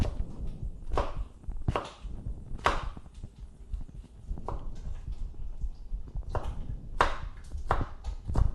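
A knife chops red onion on a board in a home kitchen, giving sharp, irregular thuds spaced roughly a second apart, fairly close and moderately loud, with no talking.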